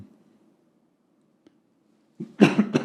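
After near silence, a single close, sharp cough bursts out in two or three quick harsh pulses.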